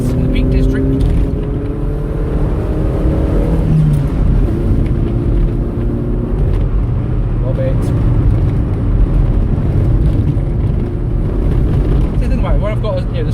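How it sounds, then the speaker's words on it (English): Car with a Fox exhaust accelerating along a Pennines road in the Peak District, a steady engine drone rising in pitch under cabin noise, with a voice talking over much of it. "It sounds alright at the moment, that's only because she's got a Fox exhaust."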